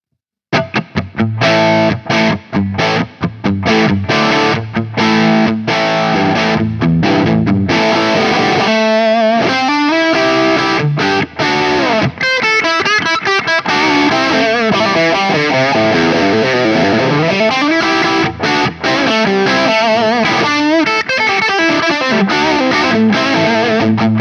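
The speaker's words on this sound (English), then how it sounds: "we'll batter out a few chords and then we'll hit that boost in so you can hear how that sounds" Heavily distorted electric guitar chords through a boosted Marshall-style preamp are strummed loud and saturated, with choppy rhythmic hits at first, then sustained ringing chords and bends.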